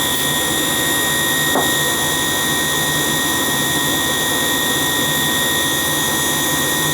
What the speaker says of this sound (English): It might be the fan motor down below that's making the noise.